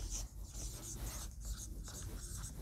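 A pen writes by hand on paper in several short, soft scratching strokes with brief pauses, close and quiet.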